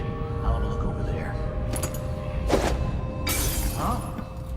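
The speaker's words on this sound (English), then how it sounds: "That sounded like broken glass." Glass shatters inside the stealth game Dishonored II, with two sharp bright crashes about a second apart over a steady low ambient hum and faint voices.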